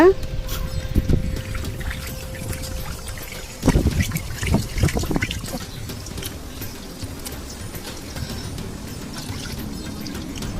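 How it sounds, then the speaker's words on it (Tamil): Fish being washed in water with salt: splashing and trickling water with a few louder sloshes in the middle, close by, fading to a quieter dribble afterward. "கொஞ்சம் உப்பு போட்டு கழுவிக்கலாங்க."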